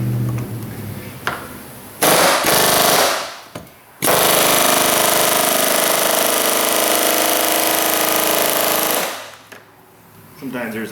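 An air hammer rattles against the fuel pump lock ring on a Chevrolet Silverado fuel tank in two loud, sustained bursts, the second running about five seconds, with quieter shop sound between.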